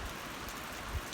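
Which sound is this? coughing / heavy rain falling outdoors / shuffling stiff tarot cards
heavy rain falling outdoors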